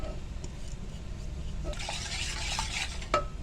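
A spoon scrapes around a pot of besan mixture with soft, steady stirring strokes over a low hum, ending in a single sharp clink of metal, close and moderately quiet.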